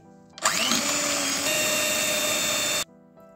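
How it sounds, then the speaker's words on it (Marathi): An electric hand beater whirs steadily for about two and a half seconds while whipping a paan ice cream mixture, starting and stopping abruptly, loud and close with no voices. "आता आपल्याला याला बीटरच्या सहाय्याने छान असं बीट करून घ्यायचं आहे, म्हणजे फेटून घ्यायचं आहे"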